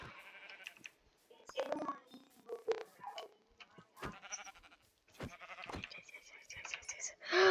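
Sheep in Minecraft giving several short bleats, scattered among clicks and quiet game noises, fairly faint and intermittent.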